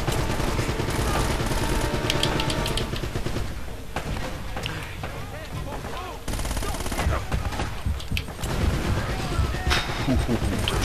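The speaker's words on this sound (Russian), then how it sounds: "О боже. Одни взрывы." A dense, loud barrage of gunfire and booming explosions from the Uncharted: Drake's Fortune video game, with rapid shots and heavy blasts continuing almost without pause alongside game music and effects.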